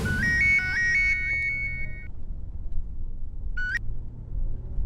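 A phone plays a short repeating ringtone melody for an outgoing call, followed by a brief second chirp, over a constant low rumble.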